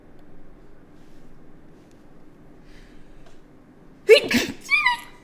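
A single sharp human sneeze bursts out near the end after several seconds of quiet room tone, followed by a short trailing vocal sound as a radio call-in chat pauses.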